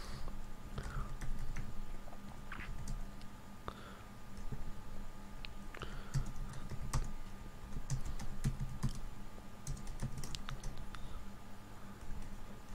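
A channel name is typed on a computer keyboard, producing a steady patter of quiet keystrokes and occasional louder clicks over about thirteen seconds, close and with no talking.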